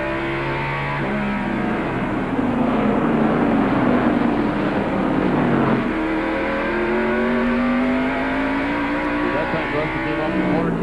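Race car at the 1994 Hanes 500 accelerating off a short-track corner, engine note rising through gears with a shift near the middle, loud and sustained, with commentary over it.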